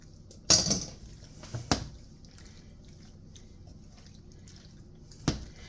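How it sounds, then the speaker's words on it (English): Dry cavatappi pasta drops into a pot for a creamy pasta dish, a short splashy tumble followed by two smaller knocks and splashes a second and several seconds later, close by in an otherwise quiet kitchen. "now we're going to add in our pasta"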